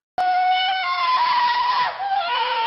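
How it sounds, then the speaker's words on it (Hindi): A single drawn-out scream rises loud and close in a horror story set in a forest, wavering and tonal for over two seconds with no talk over it. "कुछ क्षण बाद उसकी चीखें जंगल में गूंज उठी।"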